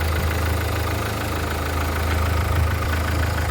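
A 2010 Mahindra Logan car engine in good condition idles steadily nearby, a low even rumble with a faint rhythmic ticking throughout.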